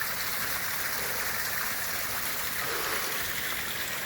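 Small waterfall running beside a mountain hiking trail on the Timpooneke Trail, a steady close rush of splashing water that fills the whole clip without a break.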